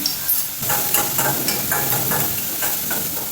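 Cumin seeds with curry leaves crackle and sizzle in hot oil for palak paneer, a dense steady hiss with repeated crisp pops and spatters close by, no voices.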